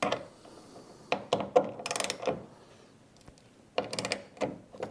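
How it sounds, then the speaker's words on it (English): Ratchet wrench loosening a hood hinge bracket bolt on an S197 Boss 302 Mustang, with bursts of quick metallic clicking between short pauses and a few sharper knocks, close up and without talking. "So we'll start loosening the lower bolt."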